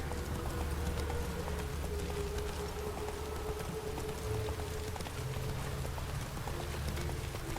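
A horse's hooves clip-clop steadily while being ridden in The Witcher 3 video game, a continuous rhythmic patter under a dense ambient wash that could include rain, with no talk.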